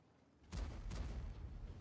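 A tank's main cannon fires in a video game, a sudden heavy boom that cuts in sharply and then rolls into a sustained low rumble, with a second blast-like surge close behind.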